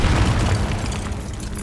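A Confringo blasting spell detonating in Hogwarts Legacy, a single sustained deep boom with a rumbling, noisy tail that slowly fades, loud and close with no talk.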